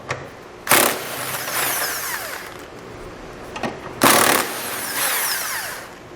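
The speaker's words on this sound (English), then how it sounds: "we're going to pull out these two bolts using a 17mm socket" Impact wrench with a 17mm socket spinning out tow hook bolts on a 2016 Toyota RAV4, two loud whirring bursts of power tool noise, each a sharp rattling start trailing into a sustained whine, close by.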